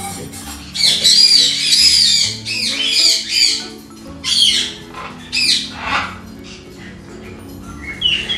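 Small parrot-type pet birds squawk and chirp in loud, harsh bursts that come in clusters with short gaps, close to the listener over a faint background hum.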